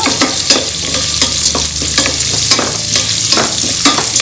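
A spoon repeatedly scrapes and stirs mango rasam spices, shallots and black pepper sizzling in a pot, producing loud, rhythmic stirring strokes over a continuous close fry.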